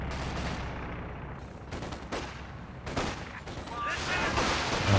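A machine gun rattles out bursts in a Company of Heroes 2 battle, mixed with rifle fusillades and scattered shots, loud and dense, the firing intensifying toward the end.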